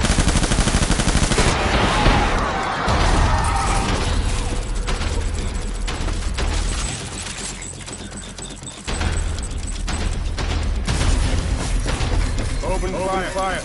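Gunfire in Death Stranding Director's Cut on PS5, sustained and loud, with rapid automatic bursts layered over dense mechanical clatter and game noise throughout.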